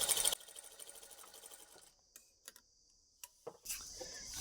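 A sewing machine stitches a half-collar uniform dress in a quick, rapid run of needle strokes for under two seconds, then stops, followed by a few scattered clicks and a brief burst of noise, close and fairly quiet.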